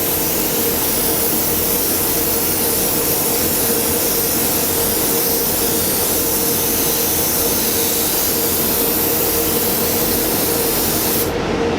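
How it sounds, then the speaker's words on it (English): Spray paint hisses onto a model Avenger Star Destroyer in one loud, continuous, close-up hiss that holds steady for about twelve seconds, with no voices. "if you're just spraying from the side, you're not going to get into them all totally"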